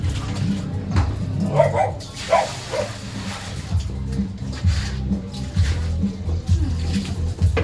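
A large dog barks and whimpers while being bathed, giving close, repeated short barks and whines, with people talking over it throughout.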